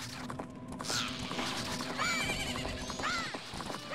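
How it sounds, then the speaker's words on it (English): A horse in a Zelda video game neighs with a rising, shrill whinny amid game sound effects and hoofbeats, the calls repeating a few times at moderate loudness. "Link, Link, don't get off the horse!"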